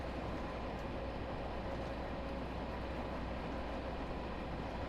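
A 1972 Mark II Tube Stock underground train running in Train Sim World 2, near Kenton at about 38 miles an hour: a steady, loud rumble and rush of motion with no breaks.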